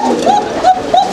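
A single pigeon at a Bangladeshi pigeon market coos in a few short, rising, throaty calls spaced about half a second apart, close and clear over a soft steady background hiss.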